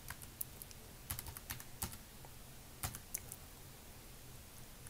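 Fingers tap a computer keyboard while entering a student login, uneven bursts of close, crisp keystrokes separated by short pauses, no talk.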